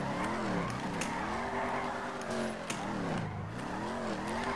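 A Ford Mustang GT in the game FiveM driving hard, its engine note rising and falling through repeated revs and gear changes, with faint tyre squeal in the background.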